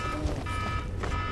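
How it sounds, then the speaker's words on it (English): Steady electronic timer alarm from the video game Evolve, a continuous buzzing tone with harmonic overtones held for the whole short stretch, loud and alone. "Oh gosh, that's the timer."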